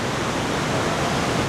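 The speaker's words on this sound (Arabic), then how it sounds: "بلشنا نسمع صوت الشلال." Roaring rush of the Trümmelbach, an underground glacial waterfall inside a Swiss mountain, heard as a loud, steady broadband wash of falling water that fills the whole moment without pause.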